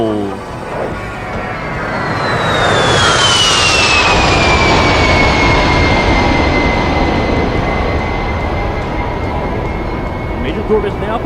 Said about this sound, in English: Now, from the right, Major Thorpe and the slow roll.